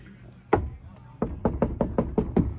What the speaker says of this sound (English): Yes, I knocked on the door.